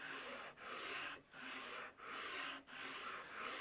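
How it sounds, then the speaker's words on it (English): A wooden guitar fretboard for a Telecaster build is sanded with a 120 grit sanding beam in even left-and-right strokes, a steady close rasping broken by brief pauses at each change of direction. "take it up from 80 grit on my sanding block to 120 grit on my sanding beam, and I'm just going to work left and right in equal strokes across"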